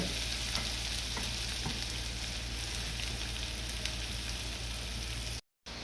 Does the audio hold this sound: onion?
yes